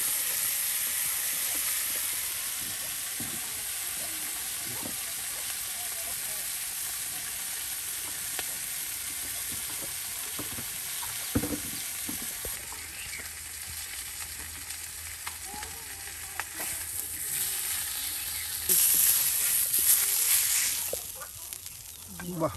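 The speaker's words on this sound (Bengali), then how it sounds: "দেখুন কত বড় মাছের মাথাও আপনার তেলে ভেজে নেওয়া হচ্ছে।" A large grass carp fish head fries in hot oil in a village kitchen, giving a steady, close sizzle that runs the whole time, with a few stirring clatters and louder bursts toward the end.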